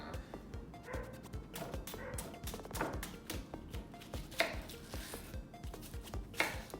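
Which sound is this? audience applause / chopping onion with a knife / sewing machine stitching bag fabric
chopping onion with a knife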